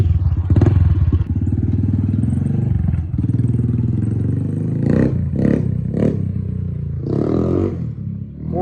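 A fuel-injected four-speed motorcycle with no clutch runs nearby, its engine note rising and falling unevenly with a few revs and some clattering in between; no one speaks.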